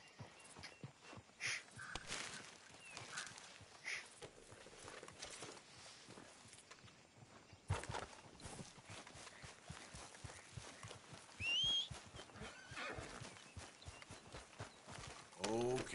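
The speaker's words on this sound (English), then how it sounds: "Such a beautiful, beautiful horse." Horse hooves clopping at a walk in Red Dead Redemption 2, a steady rhythm of close footfalls throughout with ambient game sound and a brief bird call; no neigh is evident.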